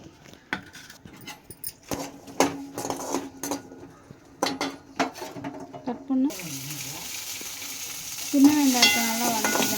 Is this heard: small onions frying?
yes